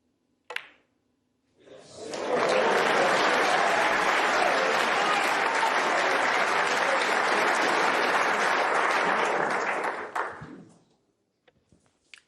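A snooker crowd at the 2023 World Championship bursts into loud, sustained applause for Luca Brecel, swelling quickly, holding steady for about eight seconds, then fading, with a few faint taps before and after.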